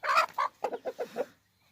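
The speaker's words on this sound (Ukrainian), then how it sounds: "Маю ось такі фаверольки, такі курочки, пару штучок." Faverolles hens cluck in a quick burst of close, fairly loud calls: two rough squawks, then a run of five shorter, evenly spaced clucks before the flock falls quiet.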